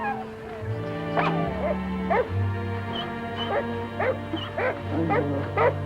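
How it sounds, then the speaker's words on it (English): Sled dogs at an annual three-day Sled Dog Derby winter race, including Siberian Huskies, give repeated yelping barks and whimpers over a steady hum of background noise, with some talk alongside. "Sled dogs and dog sleds haven't changed a lot in all recorded history."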